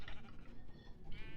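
Sheep bleat in a Minecraft sheep farm built with dispensers, a few soft, short calls rising over a steady low background hum with no one speaking.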